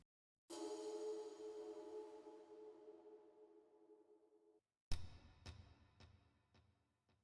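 A single sustained, reverb-soaked percussive hit rings out and decays slowly, followed by a quick series of sharp, echoing hits that fade.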